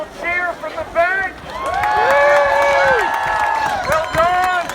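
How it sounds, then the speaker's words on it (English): A crowd on a riverbank cheers and whoops for a bamboo boat race, loud and sustained with rising shouts and a few voices standing out, fading slightly then swelling again near the end. "can we have a little cheer from the bank?"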